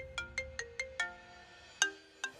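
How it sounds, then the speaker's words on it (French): A phone ringtone for an incoming call, a bright melodic sequence of short tonal beeps with a longer pause before the final two notes, fairly quiet and alone. "Attends, j'ai un appel d'Akron."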